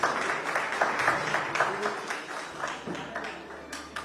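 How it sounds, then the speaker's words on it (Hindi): Crowd applause with scattered clapping, steady and moderately loud throughout, with some background murmur of voices, welcoming Delhi education minister Atishi Marlena at a live news public forum. "तो जोरदार तालियों के साथ आतिशी जी का स्वागत कीजिए आप लोग।"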